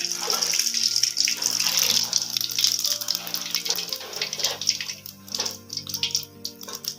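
Mustard and cumin seeds crackle and sizzle steadily in hot oil, a close, busy frying hiss with scattered pops.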